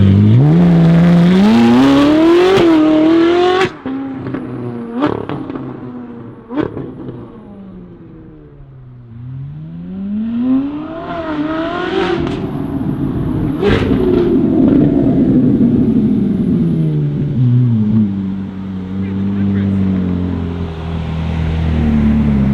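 A Ferrari 458 fitted with an S-Line valved exhaust revs loudly in repeated rising and falling sweeps. Sharp throttle blips are followed by a long climb toward high revs that then drops away, all close and with no talking.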